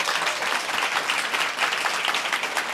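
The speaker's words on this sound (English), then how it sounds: "can we give them a big round of applause?" Steady applause from an audience at a small-business pitch event in Los Angeles, continuous and fairly even throughout, with no voices over it.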